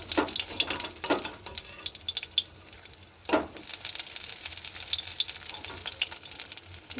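Prawn pakoras frying in hot oil give a steady close crackling sizzle, broken by a few sharper scraping and stirring bursts as the crisp fritters are turned and lifted out.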